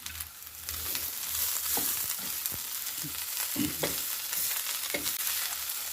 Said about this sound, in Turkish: Bunu da bu şekilde bir iki kavuruyorum. Orta ateşte.